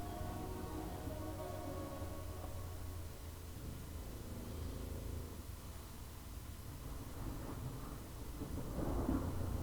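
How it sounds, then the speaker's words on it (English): Thunder rolls at a distance, a low sustained rumble that swells and fades under steady rain-like noise, faint overall with no talking. "the thunder you hear is real"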